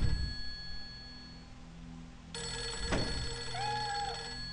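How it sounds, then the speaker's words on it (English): A telephone rings in the horror video game Fatal Frame 3, a bright bell-like trill that starts partway through and repeats over a dim, droning ambient background. "I think I hear the phone."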